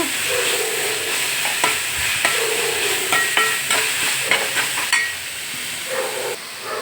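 Raw cashews frying and being stirred in a pan for a raw cashew curry, a steady sizzle with repeated scraping stir strokes throughout, close and fairly loud.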